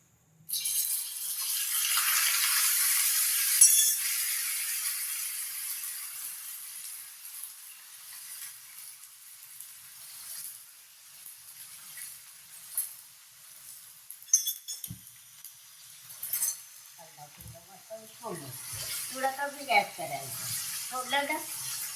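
Half a kilo of mutton hits hot oil in a pan with a loud burst of sizzling that settles into a softer crackle. Clinks of a spoon or vessel follow, and someone talks over the frying.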